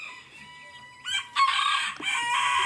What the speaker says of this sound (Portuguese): Olha o tamanho desse galo.